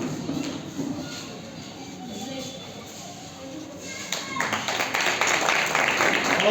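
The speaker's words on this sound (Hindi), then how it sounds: "उन्हें तो एक बार उनके लिए भी जोरदार ताली होनी चाहिए।" Loud applause breaks out for a teacher at a gathering honouring a player, dense clapping swelling near the end after a stretch of someone talking over scattered claps.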